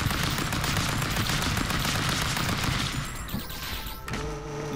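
Rapid automatic AK rifle fire from the Stick Fight video game, a dense continuous burst of shots that thins and stops near the end, loud and close with no talking.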